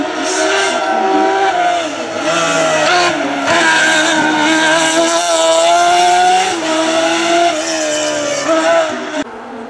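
A race car at the Dunières hill climb in 2018, its engine roaring steadily close by with rising and falling revs, while a commentator talks over it on a loudspeaker.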